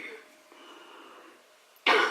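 An elderly woman gives a single sharp, loud cough near the end, following a quiet stretch of faint background noise.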